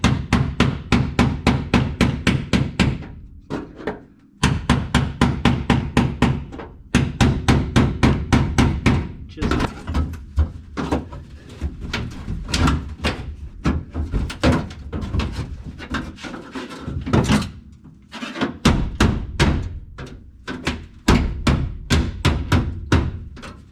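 Repeated sharp hammer blows drive a chisel into spot welds on a Jeep XJ's steel floor, coming in fast rhythmic bursts with short pauses, loud and close, with no talking.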